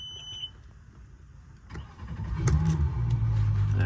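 Inboard engine on a Parker 850 Voyager boat cranks and fires up, a low rumble building and settling into a steady idle after a brief metallic jingle at the start.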